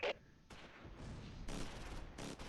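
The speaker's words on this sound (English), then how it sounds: "There's some shooting in the northwest" Gunfire from a World War II battle in Close Combat IV near Baugnez, Marche and Forrieres rattles in repeated bursts and muffled booms, fairly distant and faint, with a loud sharp crack at the very start.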